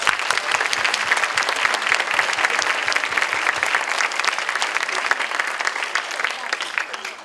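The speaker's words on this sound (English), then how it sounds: "Let's give them another round of applause." Steady, dense audience applause at an elementary school spring concert, with many hands clapping continuously and evenly throughout, close and loud with no gaps.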